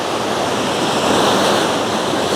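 Sea waves surging against coastal rocks at Nerja on Spain's Andalusian coast: a loud, continuous roar of churning surf and spray close by, mixed with wind buffeting, with no voices.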